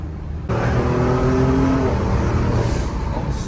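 A modified BMW M3 with a V8 engine revs hard close by, its deep, growling note rising and holding steady for a few seconds before easing slightly, with no voices over it.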